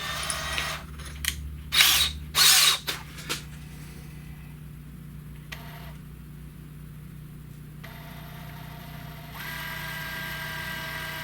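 A handheld power drill drilling a hole for a Honda muffler install whines in a few short bursts, the loudest near the start, followed by quieter low mechanical hum with no talking.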